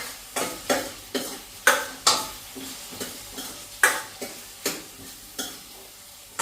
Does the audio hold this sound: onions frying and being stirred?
yes